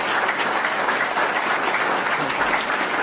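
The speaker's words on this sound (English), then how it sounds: "So please give them a round of applause." An audience claps together at a civics and citizenship event, a steady dense wash of applause that stays even and loud throughout.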